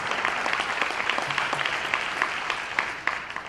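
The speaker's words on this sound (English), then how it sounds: "All right, so you can clap it up for that." An audience at a conference claps steadily, a dense patter of many hands, fairly close and sustained, with a few sharper individual claps standing out near the end.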